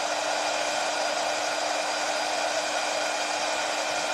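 A heat tool blows steadily at close range as it warms metallic paste on a wooden cross, giving a constant airy hiss with no breaks.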